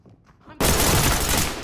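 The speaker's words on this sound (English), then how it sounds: "These gunshots sound real outside." Sudden burst of heavy gunfire from the tactical shooter Ready or Not, loud and sustained after a quiet opening, sounding like rapid rifle fire outside a building.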